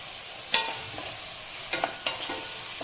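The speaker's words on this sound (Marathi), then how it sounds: "टोमॅटो छान परतून घ्यायचे" Chopped tomatoes and onion, salted, fry in a pan for pav bhaji with a soft, steady sizzle, while a spatula gives a few scraping, clacking strokes, close and quiet and with no talk.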